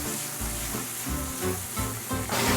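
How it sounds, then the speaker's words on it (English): Sauce reducing in a pan, giving off a loud, steady sizzle with faint bubbling pulses, close up and without speech. "Now we've let our sauce actually reduce."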